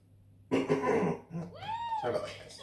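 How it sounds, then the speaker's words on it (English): A short, sharp throat clearing close to the microphone, followed by a second rasping clearing sound, during a commentated Wheel of Fortune video game session; a bit of speech-like murmur is heard alongside. "I just had to clear my throat"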